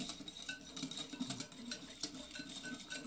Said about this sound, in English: let's mix this all together